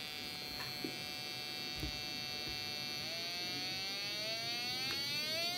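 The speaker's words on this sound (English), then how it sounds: "with the oscillator on, you can hear it humming" A one-transistor DIY synth oscillator hums with a steady buzzy electronic tone, faint and close, and its pitch then glides steadily upward.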